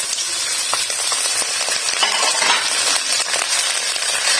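Chicken and garlic-ginger paste frying in hot oil, a loud, steady, close-up sizzle with crackling pops and faint clinks of a stirring utensil, no voices.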